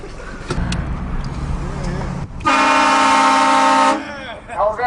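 A loud train horn mounted on a car blares as a prank, one sustained, harmonically rich blast lasting over a second, after lower rumbling vehicle and crowd noise with people talking nearby.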